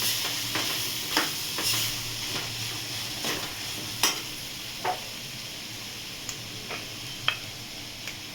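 Mung and moth beans being stir-fried in a pan, soft steady sizzling with scattered light clicks and scrapes of a spoon stirring, fairly quiet and close.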